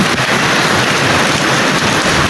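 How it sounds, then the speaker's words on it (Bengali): Steady, dense hiss of rain falling, a continuous wash of sound with no voices and no breaks. "বৃষ্টি হয়ে গেল"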